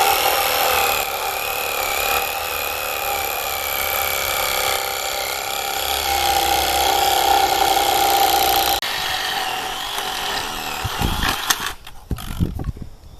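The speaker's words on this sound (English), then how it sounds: "the sawzall was able to cut it in half" Hart sawzall reciprocating saw cutting through a log, a loud continuous rasping buzz for about nine seconds, then quieter scraping and a few sharp knocks as the cut finishes.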